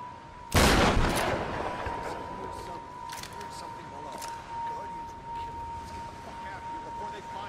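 A single loud shotgun blast cracks out in Tomb Raider (2013), followed by a long decaying echo and a steady ringing tone, then scattered fainter shots in the distance.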